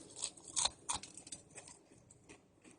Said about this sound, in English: and if I eat it, you can hear the crunch.